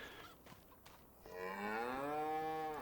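A cow in Farming Simulator 25 gives a single long, loud moo that rises and holds, close to the listener, after a few quiet moments.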